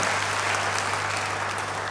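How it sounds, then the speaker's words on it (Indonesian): A church congregation breaks into steady, dense applause that fills the room evenly, with a constant low hum running underneath. "Yang percaya beri tepuk tangan yang baik buat dia."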